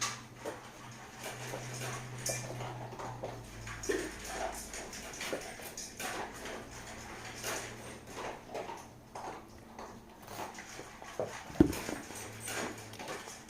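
Dogs eating noisily from food bowls, with irregular wet chewing, crunching and clicking sounds close by, occasional clinks of bowls and a low steady hum underneath.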